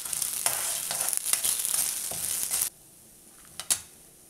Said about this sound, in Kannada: ನಾನು 8 ಒಣಮೆಣಸಿನ್ಕಾಯಿ ತೊಗೊಂಡಿದ್ದೀನಿ. ಇದು ಹಾಕ್ತೀನಿ. ಇದು ಹುರಿಬೇಕು ಸಣ್ಣ ಊರಿನಲ್ಲೇ.